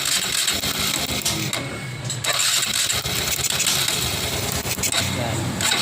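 A Honda Wave Alpha motorcycle engine with a faulty spark plug runs unevenly, its idle stumbling and surging in uneven bursts close to the microphone, with someone speaking briefly over it.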